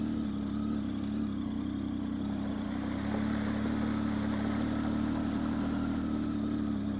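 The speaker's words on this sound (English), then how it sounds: "as you can probably tell from the sound of the engine" A Triumph Tiger 800 motorcycle engine drones steadily at moderate speed while riding off-road, with rough off-road rumble and no talk, loud and close throughout.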